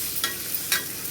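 Tomatoes and garlic stirred together in a pan for tomato dal, giving two soft scraping swishes over a low, steady background with no talk.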